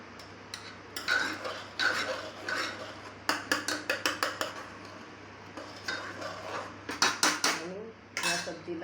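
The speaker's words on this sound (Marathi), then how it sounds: "आता ह्या जे आलू आहेत ना याला थोडंसं घोटून द्यायचं, म्हणजे सब्जी जी आहे ती थोडी घट्ट होईल" Boiled potatoes being mashed in aloo matar curry in a pan, a series of sharp metallic clacks and scrapes of a utensil against the pan, coming in quick bursts with short pauses, close and fairly clear.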